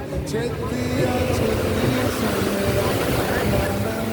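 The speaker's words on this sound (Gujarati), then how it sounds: "અત્યારે બહુ મોટી મોટી વેળો આવે છે" Big sea waves crash on the shore as a steady, loud, dense roar of surf and wind, close and continuous through the whole stretch.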